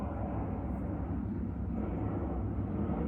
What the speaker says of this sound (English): There's an aeroplane, as usual.